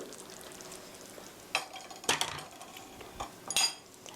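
Napa cabbage stew with green onion is ladled from a pot into a bowl, a few scattered clinks and scrapes of a ladle against metal and ceramic, with soft liquid sounds, fairly quiet.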